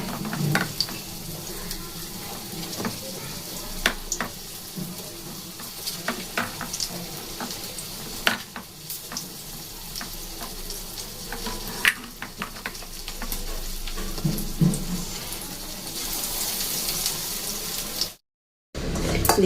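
Chops fry in hot oil with no spices added, giving a continuous bubbling sizzle with sharp spatters and occasional clinks of turning, close and steady, then a brief cut near the end.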